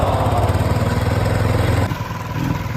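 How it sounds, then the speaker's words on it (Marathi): Motorbike engine running after a new battery is fitted, a loud, close, rapid rhythmic putter that steadies, then drops in level near the end before continuing more softly. "लेट्स सी चालू होते का बाईक."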